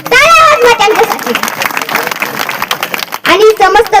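Audience clapping at a village Hindu devotional gathering during a kirtan and Shiva Purana recitation, brief bursts of applause mixed with a loud amplified voice over a sound system.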